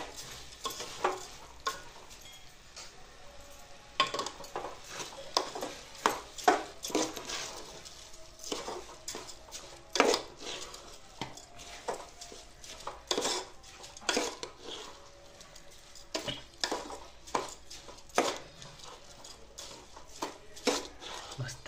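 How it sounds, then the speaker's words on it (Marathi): Rice and moth beans being stir-fried in a pan for matki rice, with repeated clatter of a spoon against the pan over a soft sizzle while someone talks at times. "एक 2 मिनिटं तांदूळ परतायचं चांगलं."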